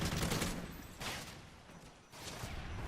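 An automated turret in MW3 Survival Mode on the Village map rattles off bursts of rapid gunfire, fairly faint and distant, with a couple of louder volleys among the steady battle noise.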